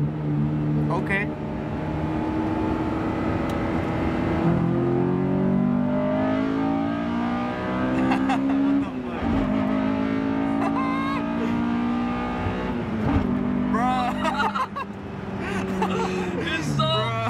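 A Honda S2000 four-cylinder engine revs hard into VTEC and climbs through the gears in rising whines, with people talking and exclaiming over the engine.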